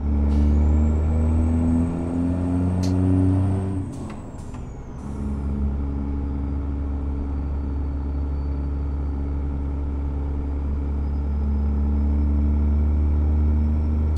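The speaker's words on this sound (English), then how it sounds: "Stuttered so bad it lagged the engine sound." A Freightliner C120 semi truck engine in American Truck Simulator drones with a steady low rumble, then briefly cuts and stutters with a hiss of air brakes before the engine note resumes evenly, no voices over it.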